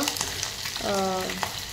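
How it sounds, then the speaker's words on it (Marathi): Spices crackle and sizzle in hot oil with a bright, steady hiss, broken by a short tonal hum partway through. "चला फोडणी मस्त"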